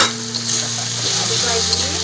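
Bay leaves, lime leaves, lemongrass and galangal hit hot oil in a pan for Betawi-style pesmol fish, crackling in a dense, continuous sizzle with a faint clink of utensil against pan near the start.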